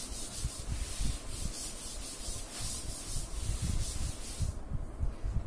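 A board being rubbed clean, a steady scrubbing swish of a duster across the surface in repeated strokes, fairly close and without talk.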